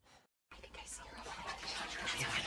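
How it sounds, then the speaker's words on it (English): Eerie whispering inside a house in the video game What Remains of Edith Finch, a low hushed breathy murmur that starts after a brief silence and swells steadily louder over a couple of seconds. "At the door, she heard whispering."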